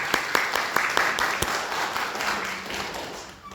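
Congregation clapping during a Korean church Sunday worship service: a burst of close, sharp handclaps that merges into a rolling applause and gradually fades toward the end.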